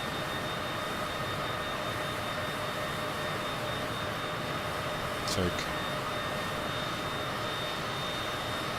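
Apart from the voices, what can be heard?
jet aircraft engine in video game Microsoft Flight Simulator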